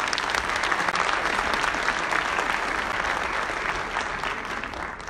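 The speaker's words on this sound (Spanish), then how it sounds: "para que les pida un aplauso" Full, steady applause from a large audience at an open-parliament forum, honouring Maru Espinosa, dense and sustained for the whole stretch, easing slightly toward the end.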